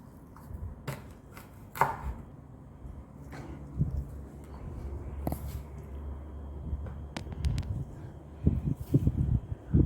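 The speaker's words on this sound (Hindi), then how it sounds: "प्याज को मैं पहले छील लेती हूँ।" An onion being peeled and handled on a kitchen surface, with sharp knocks and crisp tearing snaps scattered unevenly, close and fairly quiet, no voices.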